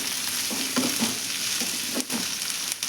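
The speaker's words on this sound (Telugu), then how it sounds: "ఉల్లిగడ్డ ముక్కలు కూడా వేస్తున్నాను. కొద్దిగా ఫ్రై చేద్దామండి దీన్ని." Onion pieces sizzling and frying in a pan, a steady close crackle with occasional stirring scrapes, no voices.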